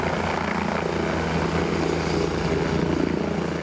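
An SUEM 118 emergency medical helicopter at a crash scene gives a loud, continuous rotor and turbine drone with a fast steady blade chop, close and alone throughout.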